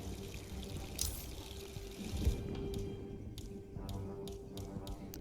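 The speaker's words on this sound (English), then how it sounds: "Angle yourself so that you can shoot it. This will make the water leak." Water leaking from a pipe shot with a silenced pistol in Hitman 3, a soft continuous trickling pour heard up close, with a few faint taps and clicks toward the end.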